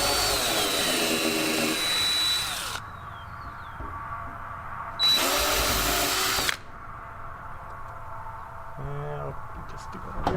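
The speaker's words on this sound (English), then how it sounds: "I'm going to pre-drill these and screw them in just like this." A power drill pre-drills wood for screws on a chicken coop door, running in two loud, steady bursts of a few seconds each, separated by quieter handling noise.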